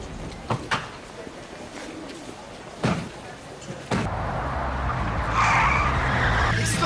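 A car is driven hard with loud tire skids and engine roar, punctuated by a few sharp thuds like a slamming door, during a tense television drama scene.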